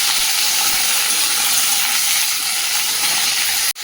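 Okra frying in hot oil in a vegetable curry pan produces a loud, continuous hiss and crackle that holds steady, then cuts out abruptly near the end.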